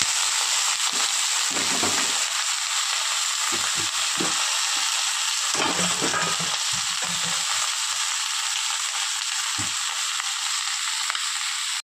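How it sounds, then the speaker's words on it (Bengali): Mixed vegetables and dried red chillies fry in a hot wok, giving a loud, steady sizzle throughout, broken now and then by brief stirring scrapes close to the microphone. "শুকনো লঙ্কাটাও ভাজা হয়ে গিয়েছে, এবার এক এক করে সবজিগুলো সব দিয়ে দেবো।"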